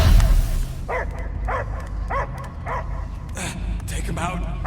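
A dog barks repeatedly in the Guardians of the Galaxy video game, a rhythmic run of about half a dozen close barks at roughly even intervals under low game ambience and speech.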